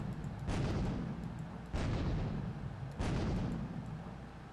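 Three heavy booming gunshots ring out in a Roblox game while shooting at Mr Funny in his toyshop, evenly spaced about a second apart, each with a long reverberant tail.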